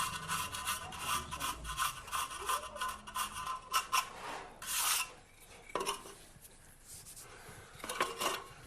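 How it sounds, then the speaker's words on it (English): A plastering trowel's edge scrapes back fresh plaster against old timber, giving repeated close, rasping strokes of varying length with brief pauses between them and no voices. "you take the edge of the trowel and you just cut back that edge"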